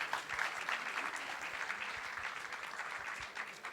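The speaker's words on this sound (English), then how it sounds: "Please give a big applause." Audience applause at a digital technology summit, a dense, steady wash of many hands clapping that holds evenly throughout without a break.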